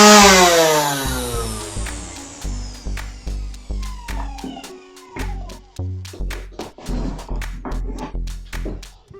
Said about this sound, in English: I'm gonna plug in the trimmer now and let's see, is it working?